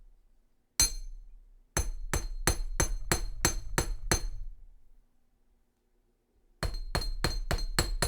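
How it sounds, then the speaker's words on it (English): A hammer strikes metal wire being shaped into large earring curves, ringing out in a quick steady run of about eight sharp taps, a short pause, then another burst of five, close and clear with no talk. "the first thing I'll do is lay them down and just hammer these large curves"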